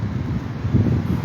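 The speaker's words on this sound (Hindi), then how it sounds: "अभी भी ठंडी ठंडी हवा चल रही है" Cold wind blows steadily after a night of rain, a broad rushing roar with low buffeting on the microphone. No voices are heard.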